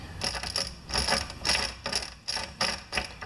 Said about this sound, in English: We stick our 6 cleaned little ball bearings in there